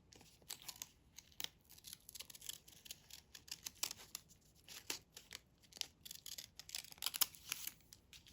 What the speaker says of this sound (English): You either use your regular scissors or you use your fancy scissors, and you cut just inside the one that you've made.